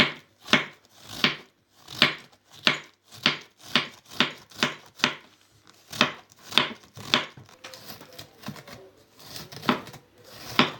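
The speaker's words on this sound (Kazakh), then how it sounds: "Мындай майда кылып тураш керек." A knife finely chops cabbage steadily on a board, about twenty crisp, evenly spaced cuts at a brisk rhythm, close and clear with no talking.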